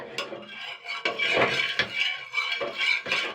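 Metal spoon or spatula scraping and clinking around a hot tawa while refined oil is spread for vegetable noodles, a close series of irregular scrapes and taps with no talk.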